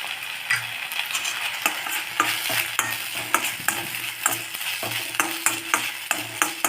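Sago khichdi is fried in a pan with a spoon stirring it, giving a soft continuous sizzle broken by a quick, rhythmic series of sharp scraping and tapping strokes against the metal.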